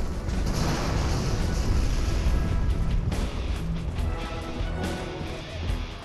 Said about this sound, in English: Helicopter crashing!